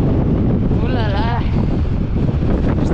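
Strong gusting wind buffets the microphone at an Icelandic waterfall, a loud continuous roar and rumble, with a voice briefly heard underneath.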